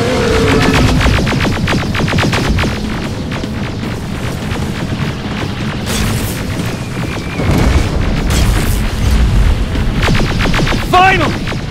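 Gunfire aimed at a robot in the downtown stage of Terminator: Resistance comes through as a loud, sustained barrage of rapid shots and booming impacts, with bursts of electronic noise and a voice shouting over the din.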